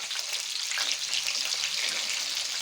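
Seafood paella fries in a pan with a steady, bright sizzle, close and continuous, with no voices.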